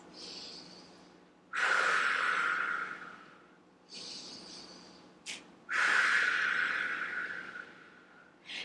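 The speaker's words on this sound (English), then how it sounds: "We're here for 2 big breaths." Two deep breathing cycles during a yoga hip extension stretch, each a soft inhale followed by a long, loud, close exhale, with no talking.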